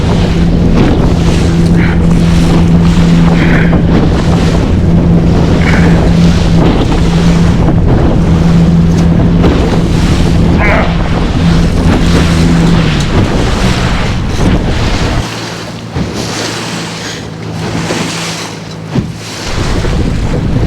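Strong wind buffets the microphone on a boat at sea while fishing for coho salmon in stormy weather, a loud continuous roar with waves and water sloshing around, easing slightly near the end.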